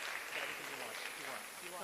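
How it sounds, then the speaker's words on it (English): Audience applause at the JA Africa Company of the Year 2022 event, a faint, steady wash of clapping from a crowd with a voice speaking over it. "A round of applause, please, for the first collabo of tonight."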